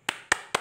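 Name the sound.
hand clapping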